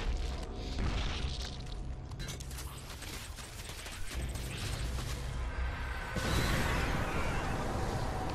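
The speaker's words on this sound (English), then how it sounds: "The charges are ready to blow." Demolition charges exploding in StarCraft 2: Wings of Liberty, a loud game blast with rumbling, clattering mechanical debris and a second heavy burst near the end.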